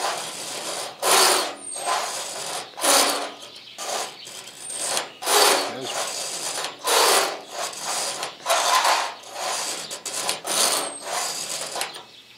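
A knife blade drawn repeatedly across the stone of a Lansky sharpener, giving steady rhythmic rasping strokes, roughly one every second, loud and close with no talk.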